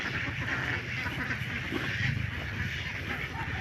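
Farm ducks quack repeatedly in a steady, close chorus, with continuous background noise running under the calls.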